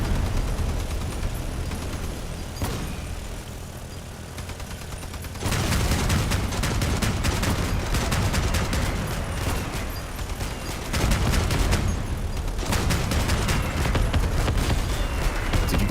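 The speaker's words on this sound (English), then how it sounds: "Did you guys see the rate at which those mandrakes fired?" Mandrake weapons in the Crossout vehicle combat game firing at a rapid rate, a dense, loud barrage of repeated blasts that drops briefly and then resumes in heavy bursts.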